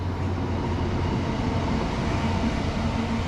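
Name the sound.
train passing through Llanfairpwllgwyngyll, Wales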